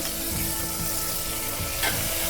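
Tomatoes and ginger-garlic paste sizzle steadily in a pan while egg pulao is cooked, a dense continuous frying hiss with a brief brighter burst near the end and no talking.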